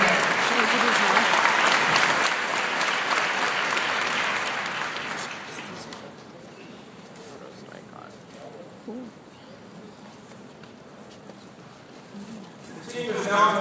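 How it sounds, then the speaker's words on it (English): Applause from a university new-student-day audience for the student diving program, loud and dense at first, then thinning out into scattered claps and quiet room noise after a few seconds. "let's do a very big hand for our student diving program"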